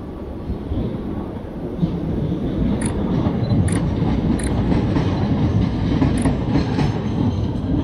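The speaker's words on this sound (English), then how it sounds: "I'm just waiting for the train to get past" A train rumbles past close by in London, a steady loud roar with rhythmic clickety-clack of wheels on rails and faint high squeals.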